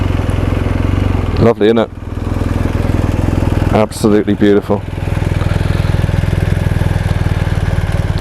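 A 2019 BMW R1250RS boxer-engine motorcycle idles loudly and close with a steady throbbing rumble; someone speaks briefly twice over it.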